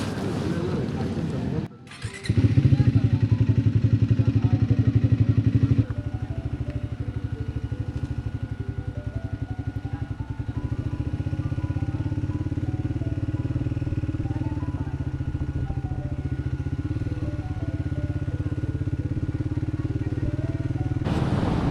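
A warmed-up motorcycle engine idling steadily on a solo touring bike ride, a loud continuous rumble that starts after a brief rustle and holds at an even level, with no talk.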